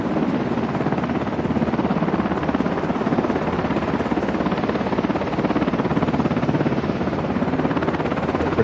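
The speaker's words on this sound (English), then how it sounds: "A couple of helicopters went through the southern border there, Eagles Pass to Texas, and now they've come back from that tour." Helicopters passing over the southern border near Eagle Pass, Texas, give a steady, loud rotor roar with a fast rhythmic thump that holds evenly throughout, with no talking.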